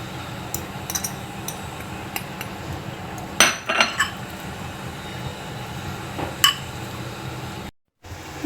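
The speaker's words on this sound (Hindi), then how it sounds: "अब हम इसे अच्छी तरीके से मिक्स कर लेंगे।" Spices are mixed into chicken for butter chicken, heard as a few brief utensil clinks against a metal bowl over a steady background hiss, with a short burst of clatter in the middle.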